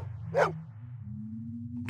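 Maggie the dog in the Blade Runner game gives a single short bark over a low steady hum, followed by quiet, with a second bark beginning right at the end.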